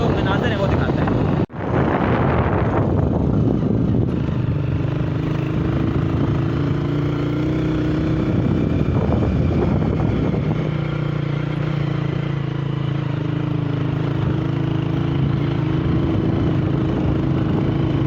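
A motorbike rumbles steadily along a rough, poorly kept road near Baghsar Fort in Samahni, with constant engine drone and wind buffeting throughout, and a sharp jolt early on.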